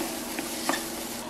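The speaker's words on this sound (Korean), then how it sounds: "식용유 한 스푼 넣고 중불에서 3분 정도 굽다가" Food sizzles steadily in a spoonful of cooking oil in a pot over medium heat with a soft crackle and a light scrape of stirring, close and unbroken by talk.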